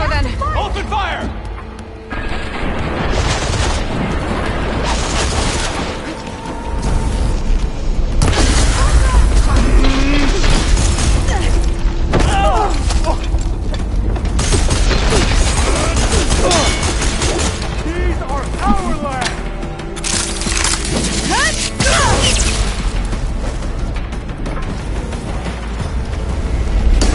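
Sustained loud gunfire and booming blasts from a firefight in Horizon Forbidden West, dense and continuous throughout with voices talking over the barrage.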